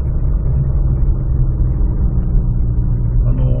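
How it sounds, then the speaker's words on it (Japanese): A Suzuki Swift hybrid climbs a mountain road, its engine and exhaust giving a steady, low, smooth drone at an even pitch, close and continuous with no voices. "とても気持ちがいいです、排気音が。"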